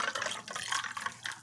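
Water trickles briefly and softly into a jar holding lemongrass tea concentrate and ice, a short close pour with faint splashing.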